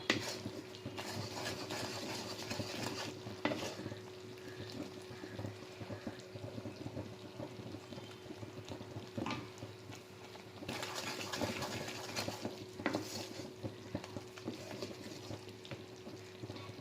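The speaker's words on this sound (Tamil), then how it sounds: "நம்ம சக்கரைப்பாக லேசாக கிளறிட்டே இருக்கலாம்" Sugar syrup being stirred steadily in a pan on the stove, a soft continuous bubbling sizzle with occasional light scrapes and clinks of the spoon against the metal, close and alone.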